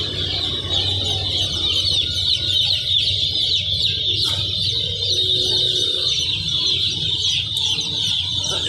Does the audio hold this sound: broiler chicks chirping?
yes